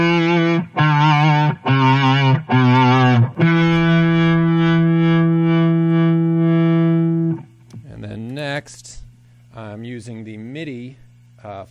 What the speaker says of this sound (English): Kingmaker Fuzz, one of our new pedals, and I've got it set up so it's just a subtle drive swell